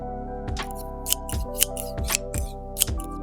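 Scissors snip through fabric in a series of crisp, evenly spaced cuts along a line while a gown is being remade, each closing blade giving a sharp nearby click.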